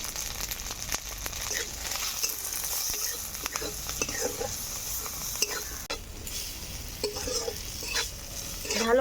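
Thankuni leaf paste sizzles and fries in a pan with turmeric and salt, while repeated scraping stirs and clicks of a spatula cut through a continuous crackle; nobody speaks.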